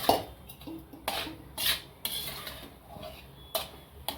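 A spatula scrapes and clinks against a pan as grated coconut is stirred while roasting in ghee over low heat for coconut barfi, making intermittent metallic taps and scrapes up close with no talk.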